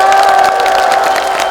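A large outdoor crowd at a Democratic Party candidate's campaign rally at Geumneung Station in Paju cheers and claps, with whoops and shouting layered over steady applause, loud and close.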